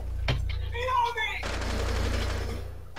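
Gunfire rings out during a Rainbow Six match, with a sharp crack followed later by a sustained burst of shooting. Voices talk over the shots against a steady low hum.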